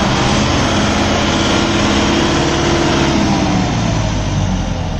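A Kubota MU 5502 tractor engine runs steadily in low gear with a constant, loud, close diesel drone and rumble throughout, with no talking.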